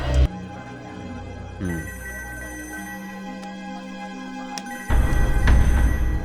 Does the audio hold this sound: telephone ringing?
yes